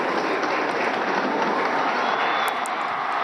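Loud, steady cheering and applause from a large crowd of faithful outside Bogotá's cathedral as the pope steps onto the balcony of the cardinal's palace, a dense, continuous roar.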